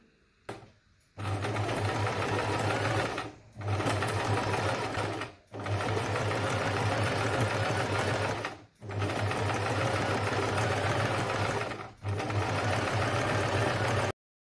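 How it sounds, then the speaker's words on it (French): A sewing machine hems the bottom of a long dress in stretchy knit fabric, running in long continuous whirring bursts close by, separated by four short pauses. "Je passe maintenant à l'ourlet inférieur de la robe"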